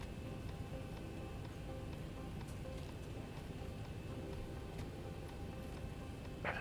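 Steady rain in the X-Plane 11 flight simulator, heard from a Zibo 737-800 cockpit before takeoff, a constant soft hiss with faint ticking drops, even and unbroken throughout, no voices.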